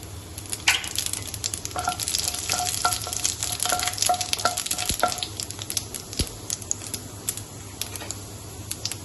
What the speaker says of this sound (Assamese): লগতে ইয়াত মই এতিয়া পাঁচফোৰণখিনি দি দিম।